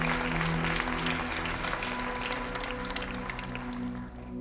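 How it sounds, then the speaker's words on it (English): Audience applause in a church congregation during a sermon, steady, dense clapping that fills the room and fades slightly at the end. "Give them a hand clap for coming up."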